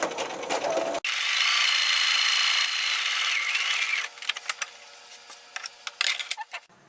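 Home sewing machine runs a long continuous stitch down the side of a fabric backpack for an 18-inch doll, a steady whirring hum for about three seconds, then stops into scattered clicks and handling taps of the fabric.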